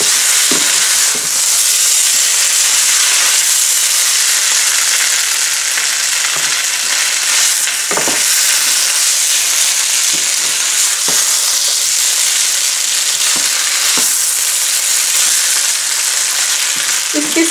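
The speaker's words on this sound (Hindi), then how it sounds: "फ्राई किया हुआ चिकन मैं इसके अंदर डालूंगी। और अच्छी तरह मिक्स कर दूंगी।" Fried chicken pieces tossed and mixed in a hot pan for chili chicken give a loud, steady sizzle and frying hiss with scattered stirring knocks throughout, no voices.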